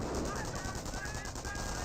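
Rapid machine-gun bursts and rifle fire crackle steadily through a Company of Heroes 1 battle involving a Schwimmwagen, a scoped rifle squad and pioneers, dense continuous gunfire with a faint voice underneath.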